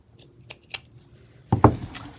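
Scissors cutting a paper junk-journal tag: a few soft snips, then a louder close double crunch of blades through paper, quiet room otherwise.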